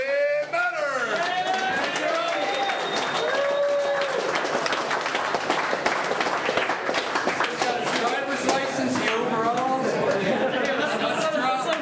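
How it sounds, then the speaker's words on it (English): A crowd at a motocross awards gathering in Mansfield claps and cheers throughout, with loud chatter and voices mixed into the steady applause. "Give a big round of applause and a warm welcome to Cody."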